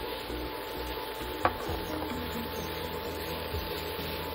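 Mushrooms sautéing in a pan with garlic and onion: a steady, close sizzle with a single clack of a spoon or lid early on and soft stirring.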